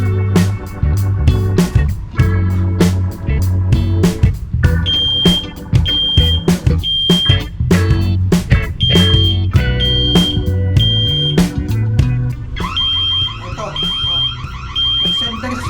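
A wifi smoke detector under test sounds repeated shrill high-pitched beeps in evenly spaced groups, loud and close, while music and a voice play underneath.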